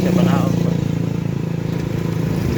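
A scooter-style motorbike engine hums steadily while being ridden, a close, continuous pulsing drone with someone talking over it throughout.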